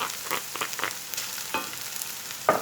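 Tomato paste and butter frying with minced meat and onions in a pan for a zucchini dish, with a faint sizzle broken by a few soft stirring scrapes.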